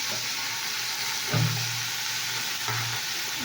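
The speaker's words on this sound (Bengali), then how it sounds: "তো দেখো আমি শাকটা নাড়ছি" Leafy greens hiss and sizzle in a pan while being stirred, a steady close frying sound with two brief louder scraping stirs and no talking.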